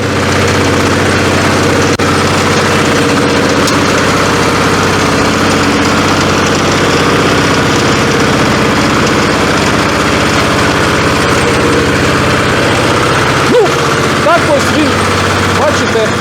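A walk-behind tractor engine runs steadily close by, a loud low chugging drone that continues without break, with faint clanks near the end.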